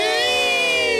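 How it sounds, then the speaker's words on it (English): A small group of children cheers together in a short, bright, sustained burst of voices, as in a Friday the 13th Part 6: Jason Lives film scene. "A few of the kids cheer."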